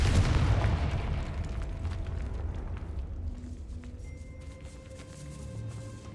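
A Confringo fire spell blasts in a decaying catacomb in Hogwarts Legacy, a single loud, booming explosion up front that rumbles and slowly fades into a low, lingering echo with faint tonal ambience behind it.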